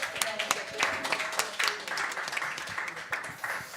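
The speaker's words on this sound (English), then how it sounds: "How about a round of applause for Nina?" An audience at Club Passim, a small live music venue, claps for their server Nina: a burst of dense, close hand-claps with a voice over it, lasting several seconds.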